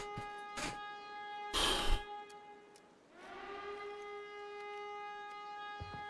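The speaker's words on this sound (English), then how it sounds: "Yeah, the siren's coming from the stream, Calvin" An alarm siren in the Arena Breakout video game, set off by pulling a lever, wails as a steady, loud harmonic tone. A brief louder burst comes early, then the drone holds on alone.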